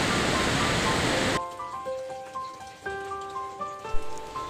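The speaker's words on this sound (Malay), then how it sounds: "di tempat saya sekarang ni sedang hujan, jadi bunyi bising kat luar tu" Rain falling outside a village kitchen during home cooking, a steady broadband hiss for the first second and a half, then it cuts to quieter background with sustained tonal notes.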